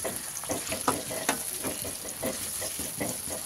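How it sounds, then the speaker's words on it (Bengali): Onions fry in about 50 grams of oil for beef keema, a continuous close sizzle broken by repeated scraping strokes of a spoon stirring the pan. "পেঁয়াজটা ভাজা হয়ে যাবে।"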